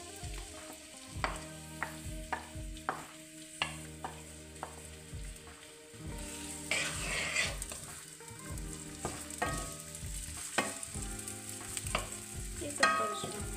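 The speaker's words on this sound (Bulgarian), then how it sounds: "И запържваме." Chopped onions sizzling in oil in a frying pan, a steady close hiss broken by repeated scraping stirs, with no talk.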